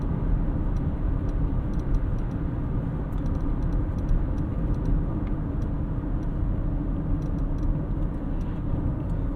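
Steady low road noise rumbles inside the cabin of a moving 2023 GMC Terrain AT4. It is constant and moderately loud, with faint ticks above the drone and no voices.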